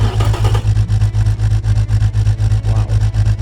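A virtual BMW S50B30US straight-six with an 8,500 rpm limit, built in the Automation game, runs loud and close, its engine note pulsing in a steady rapid throb after firing up, alone with no talk.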